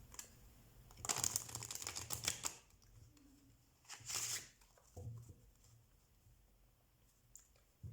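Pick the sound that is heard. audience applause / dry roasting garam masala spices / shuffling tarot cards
shuffling tarot cards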